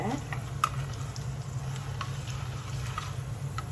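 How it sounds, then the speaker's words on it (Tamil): Dried red chillies sauté in oil after mustard seeds for tamarind rice, giving a steady close sizzle with a low hum beneath and a few sharp pops and stirring taps. "காஞ்ச மிளகா, லேசாக வதக்கிக்கோங்க"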